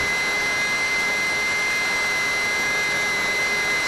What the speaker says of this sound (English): Much better quality, but the tiny plane is straining to climb.